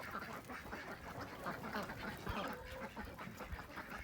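A duck calls out repeatedly outdoors on a sunny day, a run of close quacks over a background of other birds and faint stirring, with no talk.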